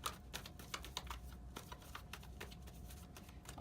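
Tarot cards shuffled by hand, a quiet run of quick papery riffles and soft flicks in close succession, faint and intimate, with no voices.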